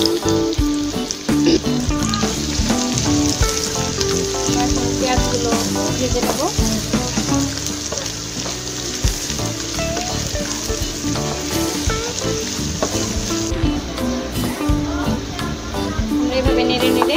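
About a cup of onions frying in hot oil for a fish dopiaza, a dense, loud sizzle that continues throughout, close up with stirring clatter, with background music over it.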